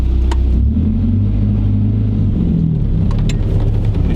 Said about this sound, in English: we're gonna go ahead and take the car around the block